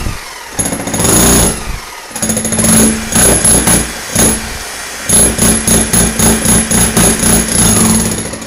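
Bosch 17mm chipping hammer, made in Germany and run on 220 V, breaking brick in loud, close bursts of rapid hammering separated by short pauses, with no talk.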